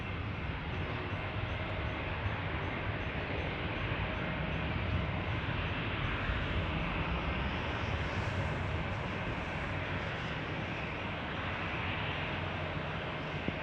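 Airbus A350 heavy jet airliner at San Diego airport, a steady broadband engine roar filling the whole span at even loudness, sounding fairly near with no talk over it.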